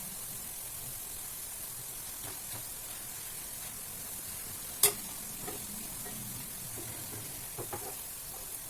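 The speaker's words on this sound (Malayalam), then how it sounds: "അപ്പോൾ ഇതൊന്ന് ഗൂന്തി ഒന്ന് ഇളക്കി കൊടുക്കുകയാണ്" Gunthi, a spicy Kerala mixture snack, frying in a pan while being stirred: a steady close sizzle with soft scraping strokes and an occasional sharp tap of the spoon against the pan.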